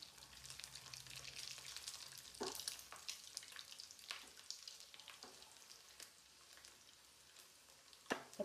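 Chicken nuggets frying in hot oil give a steady, soft sizzle with crackling pops and occasional stirring scrapes, heard alone without voices.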